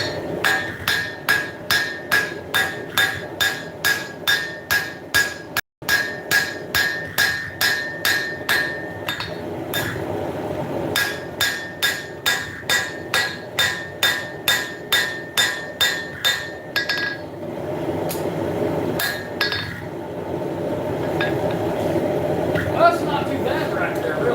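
A blacksmith hammers a hot hunting knife blade on an anvil, a steady, rapid series of loud ringing metallic strikes with a brief pause, then more blows before the hammering thins out. Someone talks over parts of it.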